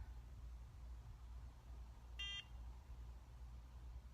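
A NuFace microcurrent facial device gives a single short electronic beep partway through, clear over a steady low background hum.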